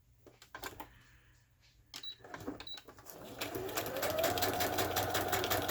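A sewing machine runs a straight stitch through coffee-dyed parchment paper, with a few handling clicks and taps before a steady, faint whirring hum builds and holds, close and alone.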